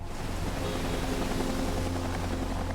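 A steady, loud whirring rumble of a Coast Guard helicopter fills the air continuously during a rescue in intense conditions, with a broad wash of noise and no voices.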